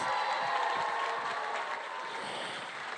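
At a county Teacher of the Year celebration, a large audience gives a teacher another round of applause. The clapping is steady and full, with a slight crowd murmur, and holds for a few seconds.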